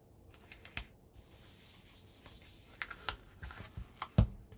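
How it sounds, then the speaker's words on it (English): A Scrapbook.com double-sided adhesive tape runner is pressed onto paper for a mini scrapbook album, giving soft, close scraping rubs and a few light clicks and taps in a quiet room. "I use my Scrapbook.com double-sided adhesive, and I'm going to lay this on here."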